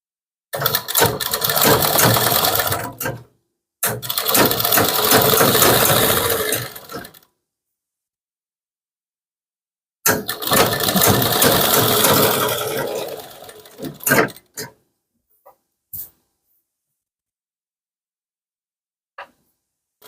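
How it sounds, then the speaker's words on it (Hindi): An electric sewing machine stitches all around a cut kurti neckline in long, loud, steady runs, stopping briefly between bursts, with a few soft clicks and handling noises afterward; no one speaks. "इसको रख के ऐसे चारों तरफ आपको सिलाई लगा देना है।"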